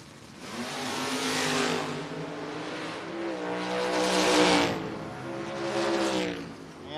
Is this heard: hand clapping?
no